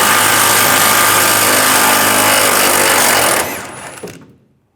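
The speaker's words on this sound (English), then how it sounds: "Take a 21mm socket," A power tool running a 21mm socket to remove a rear bumper bolt on a 2007-2013 Chevrolet Silverado 1500, a loud continuous whir held for over three seconds, then winding down to silence.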